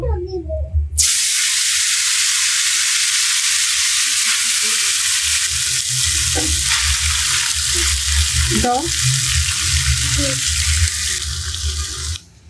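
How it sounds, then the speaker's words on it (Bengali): Vegetables sizzle steadily in hot oil as a pinch of turmeric powder goes in, a loud continuous frying hiss with occasional stirring clinks, starting abruptly and holding until it cuts off near the end. "এবার তেলের ভিতরে হালকা একটু হলুদের গুঁড়া দিয়ে দিলাম"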